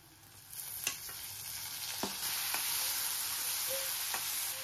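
Tomato pieces dropped into a pan of frying cashews and onions, a few soft thuds and clicks followed by a rising, steady sizzle, quiet and close, with no talk.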